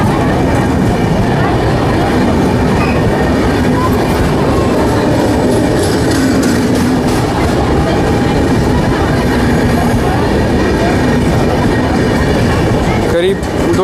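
Indore–Puri Humsafar Express hauled by a Samastipur-based WAP-7 electric locomotive passes through Akaltara station without stopping, a loud, steady rumble and clatter of wheels continuing across the whole span.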